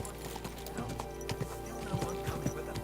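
Horse hooves clip-clopping in an irregular trot in Kingdom Come: Deliverance II, amid a busy game soundscape with a low drone, fairly quiet and close.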